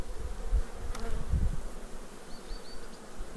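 Honeybees buzz in a steady, fairly quiet hum as a beekeeper shakes them off a hive frame, with a few low thuds and knocks from the frame handling and no talking.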